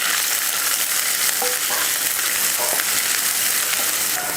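Sliced onion, curry leaves and green chilli sauté in a hot pan for a podimas dish, giving a steady close sizzle and frying hiss with occasional stirring scrapes.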